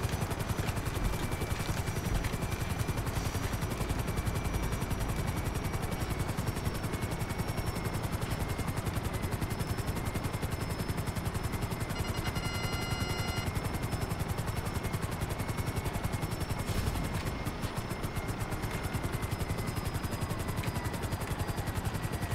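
In the video game GTA 5 Online, a helicopter's rotor chops steadily and continuously, with scattered bursts of gunfire mixed in across a long, dense, loud stretch.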